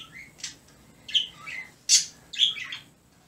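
Pet birds in a cage chirp and tweet in a handful of sharp, separate bursts, close and fairly loud against a quiet indoor background with no talking.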